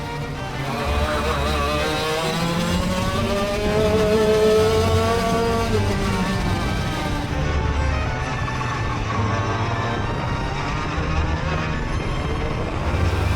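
A 70 mph go-kart tears around a track in Singapore, its engine a loud, sustained, close-up drone with rising and falling revs through the lap, and another kart nearby adds to the roar.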